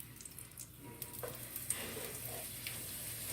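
Roat flatbread frying in a pan, a soft steady sizzle with faint scattered crackles and light clinks, fairly quiet and close, with no talking.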